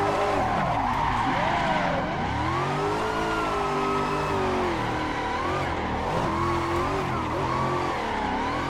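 Toyota GT86 tires squeal and skid continuously at Atron Circuit in Assetto Corsa after the handbrake is pulled, a loud wavering screech with the engine droning and shifting pitch underneath.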